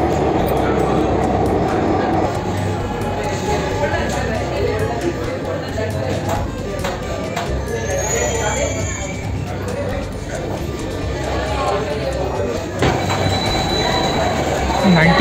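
A Mumbai Metro Line 3 underground train runs through a tunnel with a continuous loud rumble and occasional wheel squeal, while a person talks over it.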